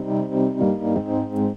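An FL Studio stock FL Keys Rhodes electric piano preset with stereo panning modulation plays sustained chords that wobble side to side, changing twice in a steady, close and moderately loud passage with no talking.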